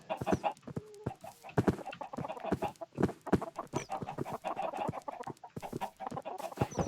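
Chickens in a video game cluck in quick, irregular bursts as a flock is herded through a gate, loud and close, with clucks overlapping continuously and no talking.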